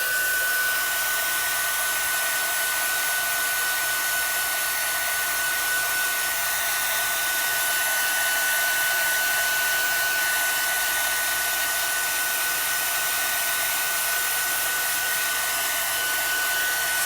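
A heat tool blows hot air onto craft foam before stamping. It gives a constant close whooshing hum with a steady high whine, unbroken for the whole stretch.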